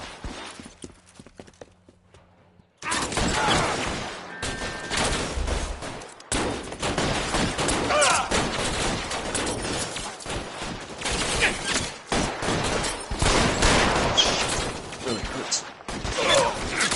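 Gunfire erupts during a shootout in the PS4 game L.A. Noire, a dense, loud barrage of shots and ricochets after a quiet opening, with voices talking over the battle.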